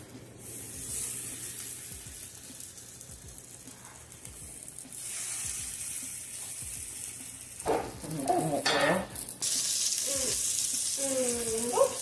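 Syrniki cheese pancakes frying in coconut oil on low to medium heat, a soft steady sizzle running throughout with a few brief louder spatters toward the end, no talking over it.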